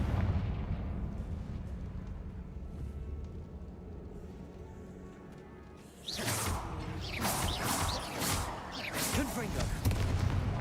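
A Confringo spell in Hogwarts Legacy bursts into a sudden bright explosive blast after low rumbling combat ambience, followed by crackling, fiery impact noise and further clashing.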